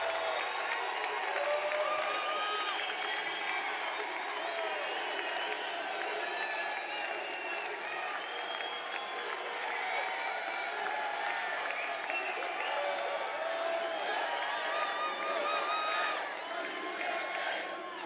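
A large crowd at a Trump rally in Atlanta applauds and cheers continuously, dense clapping with shouts and whoops, distant voices mixed in throughout.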